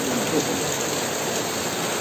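Steady rain falling at Munnar hill station in Kerala, a dense continuous hiss of drops with no breaks, moderately loud and close, with no voices over it.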